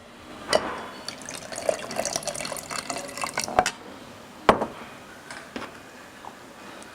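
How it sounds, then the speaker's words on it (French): Pineapple juice pours into a glass for a cocktail, a soft continuous trickle with a few sharp clinks and drips, fairly close and quiet, with no talk. "Et nous rajoutons 6 centilitres de jus d'ananas."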